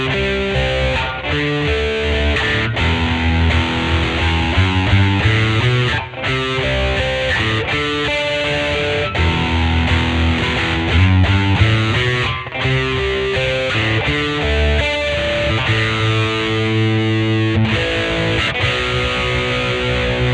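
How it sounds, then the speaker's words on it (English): A used 2008 Gibson SG Special Faded electric guitar played through heavy distortion, with sustained chords and riffs ringing loud and steady throughout, no voices. "Now with some distorted tones,"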